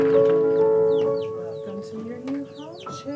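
Several chickens cluck and squawk close by, with a rooster-like call at the start and scattered bird chirps throughout.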